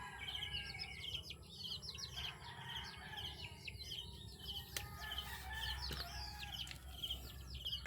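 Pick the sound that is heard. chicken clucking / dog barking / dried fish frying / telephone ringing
chicken clucking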